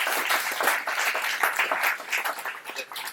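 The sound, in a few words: audience applause for the architects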